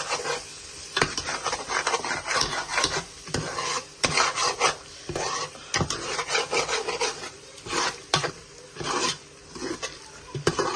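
Chicken with spices is stirred in a pan, a wooden spoon scraping and rasping against the metal in an irregular series of loud, close strokes with short pauses between them.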